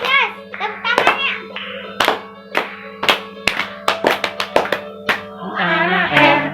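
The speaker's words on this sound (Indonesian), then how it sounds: "Tepuk keras, tepuk tangannya." Children at a Sunday school clap their hands loudly in rhythm with an action song, a series of sharp, close smacks in irregular bursts, with young voices singing and speaking between and around the claps.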